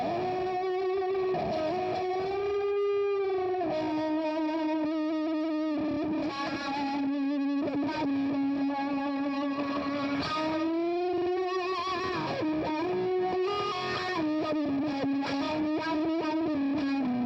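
Heavily distorted electric guitar, with a distortion effect, plays sustained, saturated notes and bends, loud and continuous with a thick, fuzzy, buzzing tone throughout.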